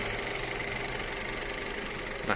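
The 1.6-litre engine of a 2015 Skoda Octavia with an automatic gearbox idles steadily, a constant low hum under a broad, even mechanical whir, heard with no talk.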